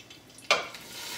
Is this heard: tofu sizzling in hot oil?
yes